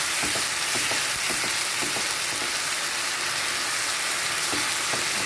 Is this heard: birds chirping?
no